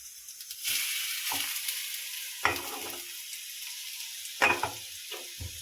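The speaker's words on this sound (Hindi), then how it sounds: "बेसन भून जाएगा, पक जाएगा" Besan (gram flour) roasts in a little oil in a pan, a steady close sizzle broken by several sharp stirring scrapes at uneven intervals.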